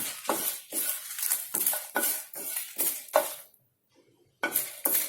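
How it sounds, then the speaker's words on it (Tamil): Dried red chilies and curry leaves are dry-roasted in a pan, a utensil scraping and stirring in quick rhythmic strokes, then a short pause before the stirring resumes. "வரமிளகாய் கொஞ்சம் மொறுமொறுன்னு வர்ற வரைக்கும் நம்ம வறுக்கணும்."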